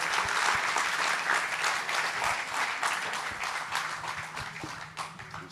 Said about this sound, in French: Je crois qu'on peut tous les applaudir encore une fois